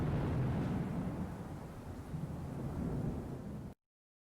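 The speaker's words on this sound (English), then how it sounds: "my rain and first thunderclap comes from both speakers" A deep, rumbling roll of thunder over steady rain, loud at the start and sustained before cutting off abruptly into silence.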